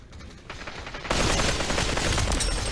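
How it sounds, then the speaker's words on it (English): Automatic fire from an AK rifle in the VR shooter Population: One begins as a quieter rattle, then jumps into a loud, sustained burst of rapid shots for the remaining seconds. "the AK sound is starting too soon for the video"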